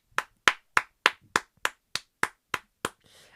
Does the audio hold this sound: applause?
yes